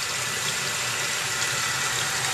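Water rushes steadily out of an RV black tank through the opened valve and clear sewer elbow, a continuous close gushing flow with no break and no voices.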